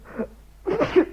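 A single person sneezes, a short breathy intake followed by a louder, explosive burst, close and alone.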